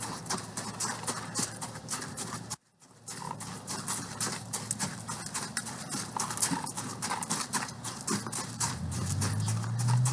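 Hooves of a horse in training clip-clop steadily and close by in a rapid even rhythm, broken by a brief pause, with a faint voice now and then.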